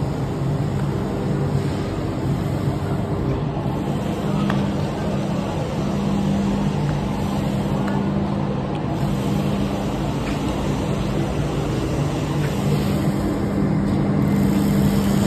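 Heavy loaded truck idling steadily at a loading point in India, a continuous low engine drone with no talk.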